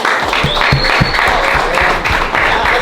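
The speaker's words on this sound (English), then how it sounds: "Team, I gotta get the hand clap for the team." A team claps together in a loud, steady burst of rhythmic hand claps close up, filling the whole moment with no talk over it.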